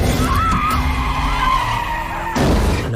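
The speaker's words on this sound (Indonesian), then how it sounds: "menabrak mobil lain." A car reverses suddenly and crashes into another car, its tires screeching in a loud sustained skid before an abrupt impact burst near the end.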